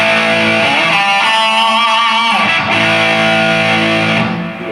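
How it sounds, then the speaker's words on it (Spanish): An electric guitar played through its bridge pickup with distortion gives a bright, hard, sustained tone, loud and continuous with shifting held notes and no voices. "si yo pongo el pickup de acá, tengo otro timbre, más agudo, más duro. Entonces, sobre todo para usar con distorsión, hay una diferencia grande"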